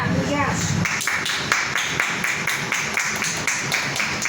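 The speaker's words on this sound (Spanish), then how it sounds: "Denle un aplauso a Cristo, amado." A Spanish-speaking church congregation claps in a quick, steady rhythm for several seconds, loud and close, with a brief voice at the start.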